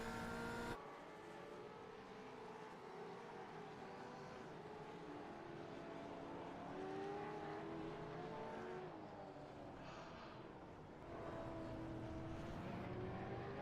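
Onboard a race car in a sim racing video game, the engine whines steadily and close, rising and falling in pitch through gear changes and corners over a lap.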